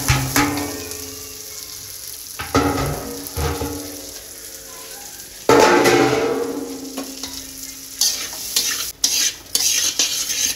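Rice coated in ghee, turmeric and garam masala fries in a pan, with steady sizzling broken by repeated bursts of stirring and utensil scrapes against the pot, fairly close and loud, no talking.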